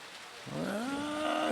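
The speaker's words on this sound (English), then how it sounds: "Sounds like the rain is lightening up just a little bit." Rain falls steadily at an outdoor paintball tournament, a constant broadband hiss heard throughout, with a rising tonal sound joining partway through.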